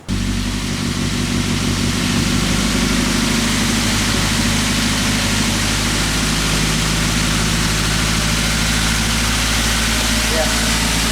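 A Toyota Avanza EFI engine idles in a steady, even drone with a fast, unstable idle, loud and continuous, while someone talks over it.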